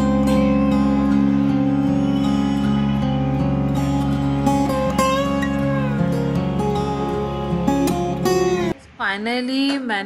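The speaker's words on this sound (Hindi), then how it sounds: "अज़ान हो रही है, नमाज़ का टाइम हो रहा है" An azaan call to prayer comes from the Sunehri Masjid near the Red Fort in Delhi. A steady tonal voice is carried with a loud, layered drone for most of the clip, and it drops away near the end as a closer voice rises.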